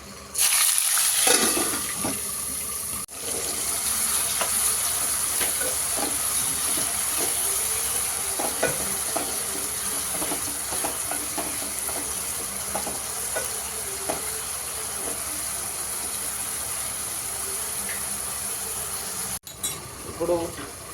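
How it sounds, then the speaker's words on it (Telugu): Blended onion paste sizzles and hisses in hot oil for a chole masala, a steady frying noise with stirring, near and fairly loud, running unbroken for most of the time. "ఇందాక మిక్సీ పట్టేసుకున్న ఆనియన్ ఇప్పుడు వేసేసుకుందాం."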